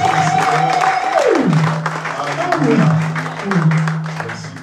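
Congregation applauding during a church service, a steady, dense clapping that lasts the whole time beneath a speaking voice and a sustained gliding tone.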